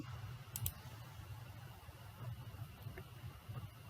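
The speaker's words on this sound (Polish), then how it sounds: "Klikając prawym klawiszem myszy, klikamy na wyodrębnij wszystkie." Two quick clicks, like a computer mouse button, sound faintly against a low steady hum, followed by a few softer ticks.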